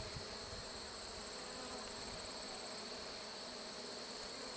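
A healthy honeybee colony in an open modified Warre hive, a dense, constant buzzing drone heard up close without pause, fairly quiet and with no voices.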